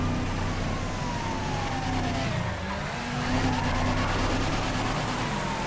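An ambulance siren in GTA V wails in sliding sweeps over a continuous roar of a racing car engine and road noise, loud and steady throughout.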